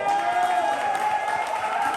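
Audience at a poetry slam applauding a poet, a steady wash of clapping with some crowd noise and cheering, fairly loud and sustained throughout.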